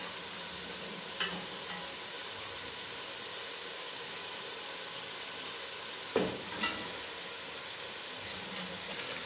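Goat trotters simmer in a masala with a constant soft sizzle and hiss, and two sharp scraping knocks from a stirring spoon come about two thirds of the way through.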